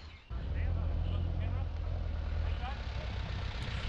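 Military jeeps and armoured cars idle close by, a steady low engine rumble that starts abruptly and holds at an even level, with a faint voice underneath.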